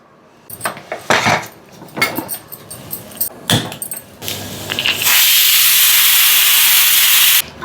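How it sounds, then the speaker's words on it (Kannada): A pressure cooker of dal vents in a loud, sustained steam hiss during the last few seconds, preceded by clinks and knocks of pots and utensils. "ಕುಕ್ಕರ್ 5 ವಿಷಲ್ ಆಗಿದೆ."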